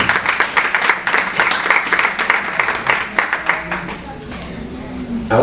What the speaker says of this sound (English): can you give my panel a round of applause, please?